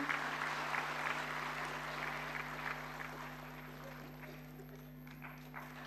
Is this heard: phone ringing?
no